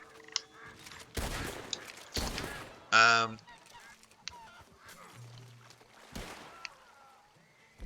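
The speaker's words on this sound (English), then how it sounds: "Ducks." Ducks honk in Red Dead Redemption, one loud harsh quacking call among sharp bursts resembling gunshots and scattered game noises, with occasional talk.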